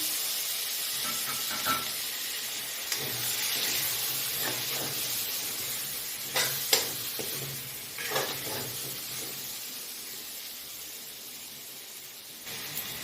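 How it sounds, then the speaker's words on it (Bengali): Potatoes and pumpkin pieces fry with spices in a pan, giving a soft continuous hiss and gentle sizzle with a few light scraping stirs, fairly quiet and without talk. "দেখুন আলুগুলো আমার ভাজা হয়ে এসছে। এরপর আমি এতে কেটে রাখা কুমড়োগুলো দিয়ে দিলাম।"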